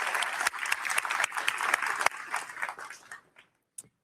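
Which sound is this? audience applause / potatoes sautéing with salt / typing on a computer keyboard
audience applause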